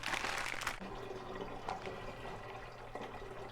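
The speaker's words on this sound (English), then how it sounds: "Pouring the rainwater into this little canister here." Rainwater pours from a cut spout in a bag into a small canister, a steady close splash and trickle of liquid with faint drips, loudest at the start and continuing softly throughout.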